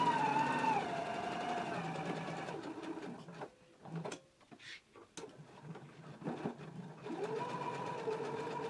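A sewing machine stitches around a garment collar for a Simplicity pattern, running in steady bursts with short pauses midway before resuming a continuous mechanical whir.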